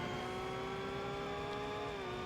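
A race car's engine in the Forza Motorsport video game holds a high, steady whine with rising harmonics, loud and constant throughout, with no talk over it.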